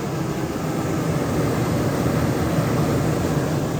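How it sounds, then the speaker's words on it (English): A camper's air conditioner compressor and fan run on a portable power station, giving a steady, broad mechanical hum and whoosh that stays even throughout, close and moderately loud, with no talking. "You should hear the compressor and the fan kick on in just a second."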